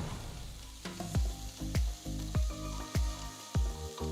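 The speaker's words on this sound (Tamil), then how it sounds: "ஒரு அகலமான பேன் எடுத்து கொஞ்சமா எண்ணெயை ஊற்றி பொடுசா நறுக்குன ஒரு பெரிய வெங்காயம், பொடுசா நறுக்குன 2 பச்சை மிளகாய் சேர்த்து வதக்கலாம்." Chopped onion and green chilli sizzle in a little oil in a wide pan, a steady frying hiss broken by a string of clanking stirs from a utensil against the pan, close and alone.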